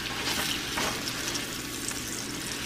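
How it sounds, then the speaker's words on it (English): Fresh peach sautés with a tablespoon of sugar in a hot pan, making a constant, even sizzle heard up close with faint stirring textures and no voices. "So you just want to saute it until your peach starts to caramelize"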